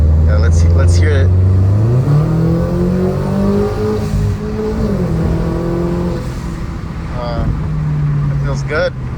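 A Toyota GR86 engine with a Gen 2 JDL turbo kit revs loudly up and down, pitch climbing and falling with throaty roar, close by, with voices briefly audible over it.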